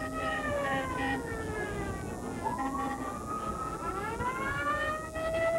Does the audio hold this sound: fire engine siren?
yes